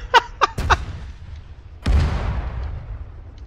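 Artillery fire in the Arma 3 military game: a few sharp booms in quick succession, then a heavier blast with a long rumbling decay, loud and close, with no talking.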